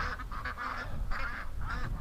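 Panicked ducks quacking in a yard, a flurry of loud, harsh, honking calls in quick overlapping bursts, close by and with no one speaking.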